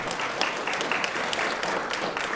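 An audience claps at an award reception, a brief, dense burst of steady applause from many hands, moderately loud throughout.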